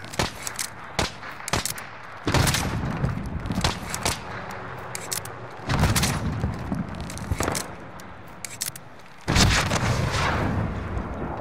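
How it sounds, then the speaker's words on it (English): Shots ring out in an online shooter game, several loud booming reports spaced a few seconds apart, with sharper cracks and clatter between them and no talk. "I just sniped somebody out of a helo"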